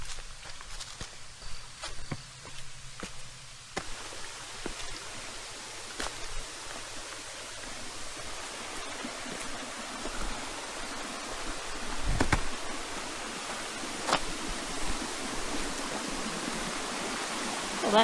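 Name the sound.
waterfall and stream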